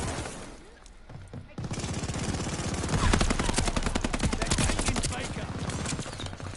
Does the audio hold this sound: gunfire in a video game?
yes